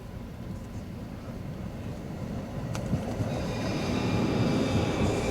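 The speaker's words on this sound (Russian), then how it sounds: "Пригородный электропоезд." Suburban electric train at a platform, a low steady rumble that slowly grows louder with a brief sharp click midway and faint high whine building toward the end.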